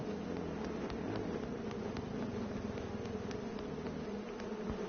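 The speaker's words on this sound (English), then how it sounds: "I hear bees." Bees drone in the H1Z1 video game, a steady, moderately loud insect buzz holding under faint ticking game noise, with no speech.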